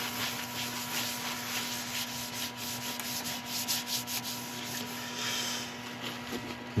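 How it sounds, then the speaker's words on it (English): Steady, continuous rubbing and buffing as a beeswax and linseed oil finish is worked onto turned wood, likely on a lathe, with a constant humming tone underneath. "now we're going to go back on with the beeswax and linseed oil finish"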